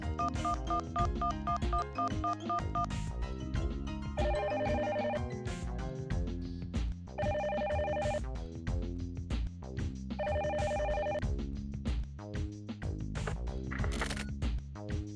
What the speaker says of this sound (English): Calling Erica's cell phone.